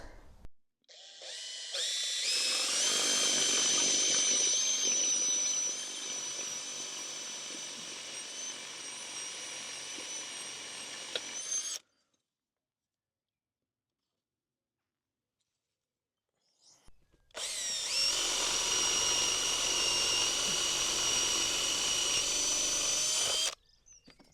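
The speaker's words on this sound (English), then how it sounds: "So this is the drill bit I'm using. It's got a flat bit there which makes the hole that I need." A power drill with a flat bit bores holes in two long bursts, each a loud high whine lasting several seconds, separated by a short silence.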